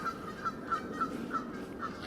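Ducks or geese in a New York park honk in a steady series of about seven calls, evenly spaced at roughly a third of a second, moderately near over a soft continuous background hum.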